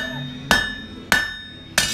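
Three loud, ringing hammer blows at an even pace as a knife blade is flattened on an anvil at a forge, each strike leaving a bright metallic ring that fades before the next.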